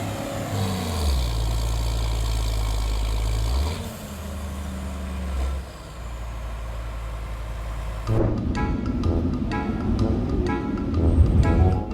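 A tractor engine runs in a farm field, a steady low rumble that shifts pitch partway through, then turns rougher and busier with clattering near the end.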